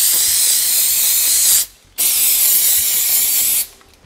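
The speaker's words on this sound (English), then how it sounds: "we're gonna spray the openings with just a little bit of silicone lube" Silicone lube sprays from an aerosol can into the slider openings of a snowmobile, in two steady hissing bursts of about a second and a half each, close and loud with a brief gap between them.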